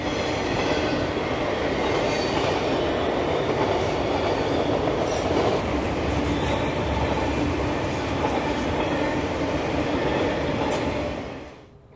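A freight train of autorack cars rolls past on the southern main line near Vitus Junction, a loud continuous rumble of wheels with faint clicking over rail joints and occasional squeals, fading slightly at the very end.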